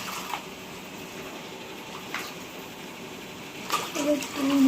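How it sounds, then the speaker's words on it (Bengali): Water pours onto rice in a pot for basanti pulao, a soft continuous splashing that swells louder toward the end, heard close with faint background sounds. "এই যে যা চাল দিয়েছি তার ডবল জল।"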